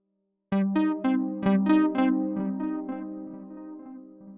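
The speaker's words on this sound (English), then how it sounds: "As you can hear, this is a stereo delay." A Cheeze Machine PRO synthesizer sounds a bright, harmonically rich tone through a stereo delay, each struck note followed by repeating echoes that bounce in rhythm and slowly decay into a lingering hum.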